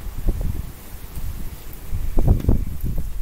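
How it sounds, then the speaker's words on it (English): Gusty wind buffets the microphone outdoors during a spa breaker panel and timer installation, a low rumbling roar that swells and dips, peaking in a few strong bursts near the end. "Sorry if it's a little windy."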